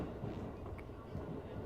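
A train runs through the Kanmon Tunnel between Moji and Shimonoseki, giving a steady low, muffled rumble with faint higher rattles on top.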